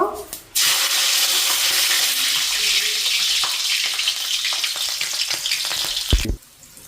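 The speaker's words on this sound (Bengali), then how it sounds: "তেল গরম হয়ে গেছে, এবার লঙ্কা দিয়ে দেব।" Green chillies hit hot oil in a pan for Bengali aloo bhaja, bursting into a sudden loud, steady sizzle that crackles for several seconds, then cuts off abruptly.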